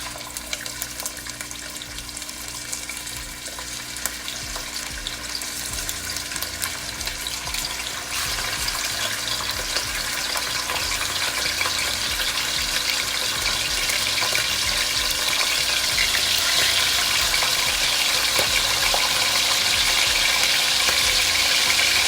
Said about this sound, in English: let's go ahead and start frying up our saltfish.